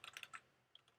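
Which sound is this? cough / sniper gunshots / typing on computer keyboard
typing on computer keyboard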